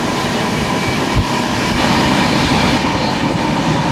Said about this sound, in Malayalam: അപ്പോൾ ആ പോകുന്നതാണ് നാഗർകോവിൽ കോട്ടയം എക്സ്പ്രസ്.